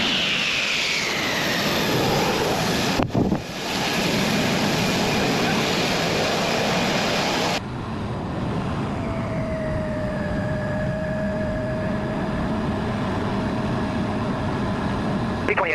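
A fighter jet taxiing on an airfield runway gives a steady loud engine roar and whine that shifts in pitch, running continuously without speech.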